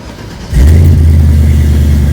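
A Chevrolet Caprice engine cranks and catches, then settles into a loud, deep, steady rumble close by.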